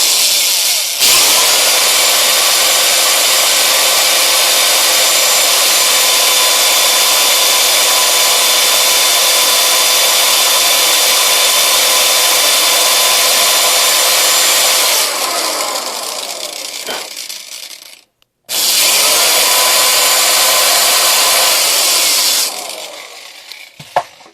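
Loud, continuous high-pitched grinding whine of a rotary brush jammed inside a rocket nozzle, running for a long stretch, cutting out briefly, then resuming before stopping.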